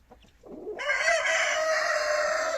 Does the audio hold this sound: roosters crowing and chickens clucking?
yes